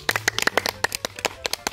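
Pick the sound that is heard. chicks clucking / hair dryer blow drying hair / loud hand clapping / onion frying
loud hand clapping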